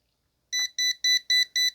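A Kaiweets brake fluid tester pen dipped in tap water sounds its alarm: five sharp, evenly spaced electronic beeps in quick succession, loud and close, with silence before them and no speech.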